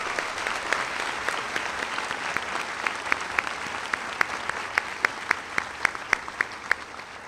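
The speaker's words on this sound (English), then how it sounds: "So let's give them a round of applause." A graduation ceremony audience at Cheshire High School, 2023, applauds retiring teachers with steady, sustained clapping that fills the hall, and sharper individual claps stand out throughout.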